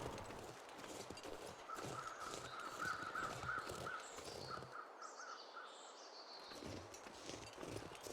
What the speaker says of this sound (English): There's crows behind the house.